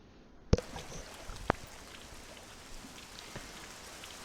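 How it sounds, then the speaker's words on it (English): Steady rain in the video game The Lost Crown patters and hisses evenly on a surface, with a couple of sharp knocks near the start. "Yep, it's raining now."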